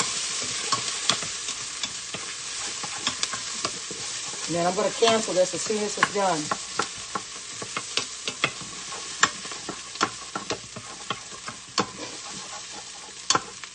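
Succotash sizzles and gets stirred in a quick cooker, with steady frying crackle and scraping strokes throughout. A voice speaks briefly in the middle.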